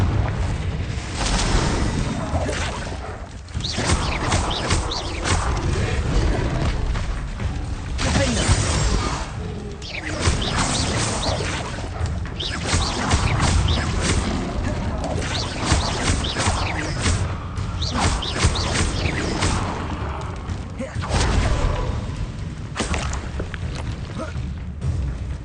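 Repeated Confringo fire-spell explosions in the Hogwarts Legacy video game: dense, loud, continuous blasts and crashes with steady booming weight and a few sharper bursts, all close and unbroken throughout.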